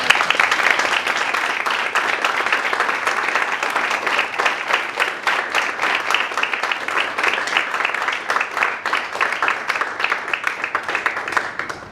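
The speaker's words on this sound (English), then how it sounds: "Let's have a round of applause." An audience at a speech event gives a long, dense round of applause that stays steady and close for the whole stretch, with only light voices underneath.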